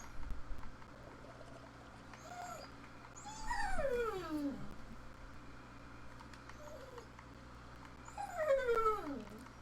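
Dog whimpering in two drawn-out, wavering whines a few seconds apart, fairly close over a quiet steady background hum.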